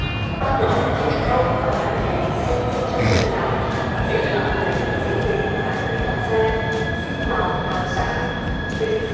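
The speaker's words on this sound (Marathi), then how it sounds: "माझी आता मेट्रो येते, मेट्रोमध्ये बसतो" An arriving metro train in China rumbles steadily nearby with a constant electric hum and a faint high whine, while indistinct voices murmur in the background.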